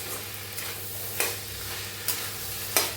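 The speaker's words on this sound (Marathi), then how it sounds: "प्रमाणे मीठ टाकूया आणि हलवून घेऊया। हलवून सगळ्याला मिक्स करूया।" Sprouted moth bean sabzi seasoned with salt is stirred in a pan, a spoon scraping through with three or four distinct strokes over a steady low sizzle, close and moderately loud.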